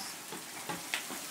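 Bacon frying in a pan gives a steady soft hiss of sizzling fat, broken by a few small crackling pops.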